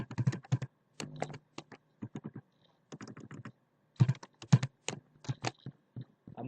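Fingers type on a computer keyboard in short bursts of rapid clicks separated by brief pauses, close and clear, with no talking.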